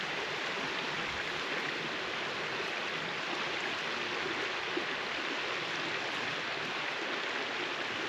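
A mountain creek streams steadily beside a huge rock wall, its broadband rushing water loud and constant throughout with no voices.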